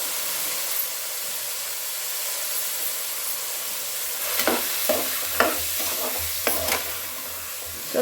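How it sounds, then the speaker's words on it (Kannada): Basmati rice frying in a ghee and cumin tempering for jeera rice, a steady close sizzle and hiss with a few soft stirring scrapes and clinks toward the end, no voices. "ಅಕ್ಕಿ ಹಾಕಿದ ತಕ್ಷಣ ನಾವು ಒಂದು ನಿಮಿಷ ನಾವು ಫ್ರೈ ಮಾಡಬೇಕಾಗತ್ತೆ"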